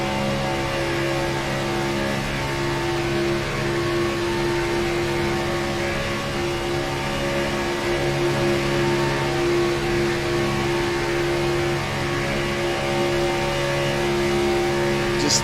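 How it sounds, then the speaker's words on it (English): A race car engine drones from onboard at Daytona during a SCAR Daytona 250 race, a loud, steady and unbroken high-pitched whine held at speed for the whole stretch, with no talking. "Just listen to that engine sing, man."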